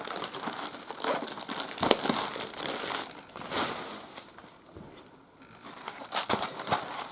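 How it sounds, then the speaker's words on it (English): Plastic wrap peeled and crinkled off a Star Trek CCG booster box, close bursts of crackling and rustling that pause briefly midway before resuming, with no talking. "I'll take the plastic off and I will get the packs out."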